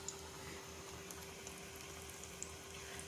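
Cabbage pakodas deep frying in hot oil give a faint, steady sizzle and bubbling with scattered tiny pops over a constant low hum, with no talking.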